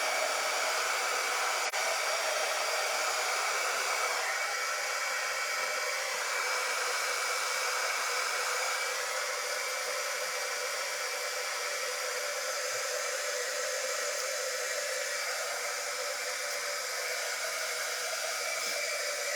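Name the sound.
heat gun blowing to soften hot glue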